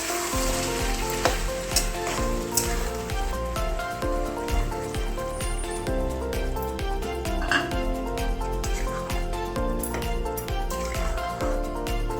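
Chicken curry fries in a pan with a dense, continuous sizzle while a spoon stirs and scrapes through it, steady and close throughout.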